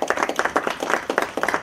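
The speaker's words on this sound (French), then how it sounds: "Je voudrais qu'on applaudisse le ministre." An audience applauds a minister at a meeting with the diaspora: brisk, fairly loud and close clapping with distinct individual claps in a quick uneven rhythm throughout.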